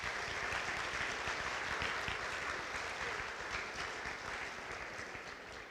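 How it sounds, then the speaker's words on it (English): Dense, sustained applause from a high school awards assembly audience honouring underclassmen, a large crowd clapping evenly throughout and fading slightly toward the end. "So give them a nice round of applause"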